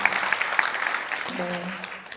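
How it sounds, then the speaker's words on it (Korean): Studio audience applauding at a talk by an English lecturer, a brief burst of close clapping with a voice speaking briefly over it near the end. "박수 한번 쳐주실래요?"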